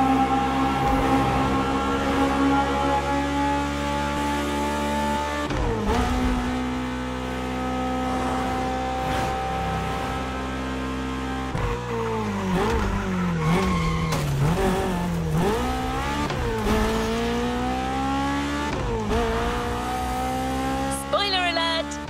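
Race-car engines from The Crew Motorfest rev hard and drone on, loud and constant, with gear shifts and brief tire squeals, while a narrator speaks over the top.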